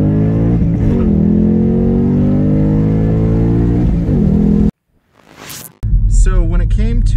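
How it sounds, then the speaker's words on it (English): A Toyota Supra driving in sport mode, its engine a steady droning hum that rises slightly, then a brief gap and a sharp burst of noise, with someone talking over it. "Got the Supra in sport mode, and just gonna go for a little drive"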